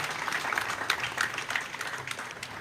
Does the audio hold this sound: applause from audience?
yes